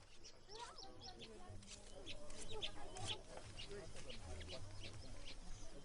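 A chicken clucks in short, irregular bursts along the Nile, fairly close, mixed with a voice and other outdoor ambience.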